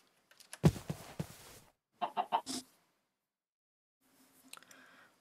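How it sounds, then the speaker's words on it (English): Chicken clucks in the Minecraft video game: a short burst of clucks, then a quick rapid three-note cluck sequence, then faint scattered game sounds after a pause. "Now I can finally go kill that pesky chicken."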